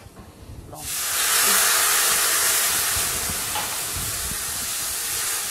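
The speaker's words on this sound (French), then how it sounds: "Et vous rajoutez maintenant le vin blanc." White wine poured into a hot pan of rice and shallots for a risotto sets off a sudden loud, steady hiss and sizzle that holds for about five seconds after a brief quiet start.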